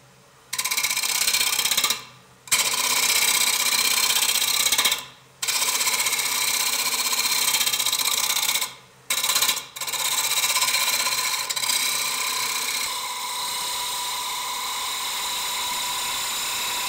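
Wood lathe spinning a turned bowl at about 1,000 RPM, a loud steady whir with tool scraping, broken by several short pauses where it cuts out before resuming.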